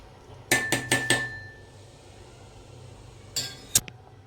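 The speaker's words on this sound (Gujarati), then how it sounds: "આપણે એકવાર એનો ચમચીથી હલાવી દઈશું" A spoon stirs rice boiling in a pot for vegetable pulao: four quick metallic clinks against the rim, a pause, then two or three more taps, close and crisp over a quiet background.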